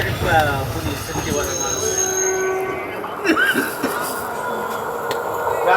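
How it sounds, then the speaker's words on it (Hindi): A Marathwada Express passenger train rolls steadily on its rails in general class, a continuous low rumble with rattling wagons, brief squealing wheel tones and voices chatting throughout. "हमारी ट्रेन की क्रॉसिंग होने वाली है पुणे हजूर साहिब नांदेड़ एक्सप्रेस के साथ।"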